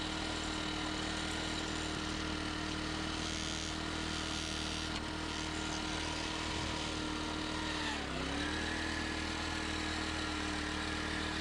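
Garden cultivator engine running steadily in gear while mulching soil, a constant loud droning motor hum with a slight dip in pitch partway through, no talk.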